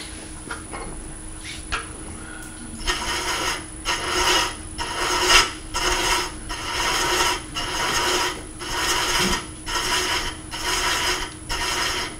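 A wood lathe cuts threads into a turning workpiece, giving a run of rhythmic rasping strokes about a second apart, loud and close, after a quieter start.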